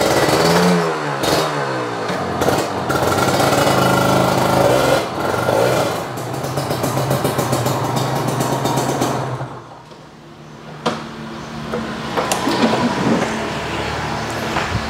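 A two-stroke Ninja RR sport motorcycle engine runs and revs up and down close by, with rattling mechanical clatter; it briefly quiets before idling again.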